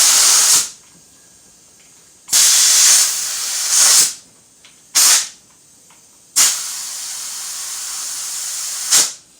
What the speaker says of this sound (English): don't just fill her up right away. Let her go in slowly.